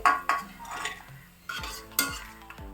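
Roasted raisins for payasam are scooped out of a pan into a vessel, making a few close scraping clinks and knocks with soft rustling between them.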